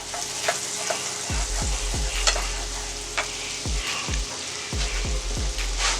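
Garlic sizzling in melted butter in a pan, a steady close hiss with several quick knocks of a spoon against the pan in short bursts, and no voices.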